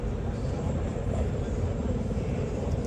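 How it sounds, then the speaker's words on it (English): A helicopter flying overhead in the military video game ARMA 3, a constant loud rotor-and-engine roar filling the scene without a break. "That's a helicopter that we can hear overhead."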